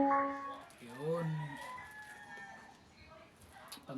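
A rooster crow plays from a small bird-call loudspeaker, slightly tinny and harmonic, followed by faint clucking and low room noise.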